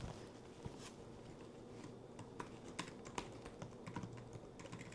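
Rapid, uneven keystrokes clatter on a Lenovo ThinkPad P-series laptop keyboard, close and steady, with a few sharper key taps standing out.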